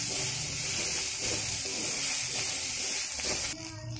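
Soaked chickpeas and bay leaves hit hot oil, giving a loud steady hiss and sizzle that drops off sharply near the end.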